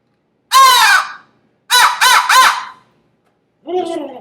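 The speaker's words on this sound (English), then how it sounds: "it's loud and it's sharp and abrupt, and it will shock a bird to gobble" A loud, sharp, abrupt locator call meant to shock wild turkeys into gobbling, heard as three harsh cawing bursts, the middle one a rapid triple, then a fainter lower call, with silence between them.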